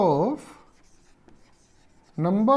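A math solution being written out by hand during a probability lesson, with faint pen scratching in a quiet pause between stretches of a man's speech.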